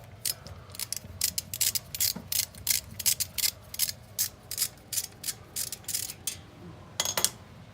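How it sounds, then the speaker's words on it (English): A ratchet turns a 10mm socket to remove the rear wheel speed sensor on a Buick Regal during a bearing replacement, giving rapid, close-up clicking bursts in an uneven rhythm with brief pauses. "That's going to be a 10mm socket, and that will come right out."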